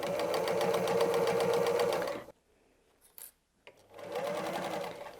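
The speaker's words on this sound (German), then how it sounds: "wir nähen einmal die ganze Seite entlang." A sewing machine stitches along the side of a fabric bottle bag, a loud close rapid mechanical whir that runs for two seconds, stops briefly with small clicks, then starts again.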